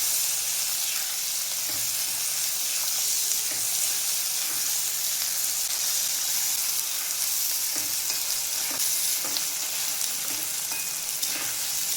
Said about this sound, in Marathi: त्याच्यामध्ये आपण आता टोमॅटो टाकून घेऊया। टोमॅटो चांगला भाजून घ्यायचा आहे कांद्यामध्ये।